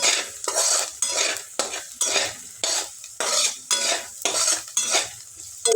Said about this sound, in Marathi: पुन्हा एकदा व्यवस्थित मिक्स करून घ्यायचं म्हणजे कांदा लवकर शिजतो